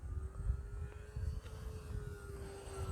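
A Dynam B-26 Marauder 1.5m RC plane flying overhead with a steady, moderately distant motor drone held at one even pitch, over low wind rumble.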